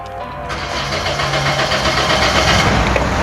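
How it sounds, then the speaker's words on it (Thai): A used car engine runs loud and close, a steady rumbling idle with a faint rhythmic knock, after a brief start at the beginning. "ไปเดี๋ยวเราดูเลยว่าเสียงเครื่องเป็นไงนะ"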